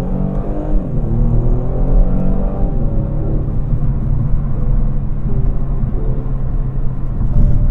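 A 2021 Kia Stinger GT accelerates to overtake a tricycle: a steady, loud engine rumble and drone is heard from inside the car, with the engine note rising slightly at first and then holding even throughout.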